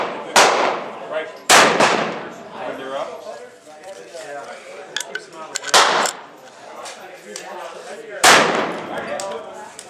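A 12 gauge shotgun fires 9mm reloads through a chamber adapter outdoors: four sharp, loud reports spaced several seconds apart, with someone talking between the shots.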